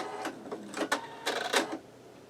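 A sewing machine stitches a seam on a skull-themed project in several short bursts, quick rattling runs separated by brief pauses. The sound is close and fairly quiet, with no talking.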